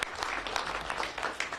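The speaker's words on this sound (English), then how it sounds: "We should applaud." Dense applause from an audience at a gathering about veterans' services, a continuous, full clatter of many hands lasting the whole moment.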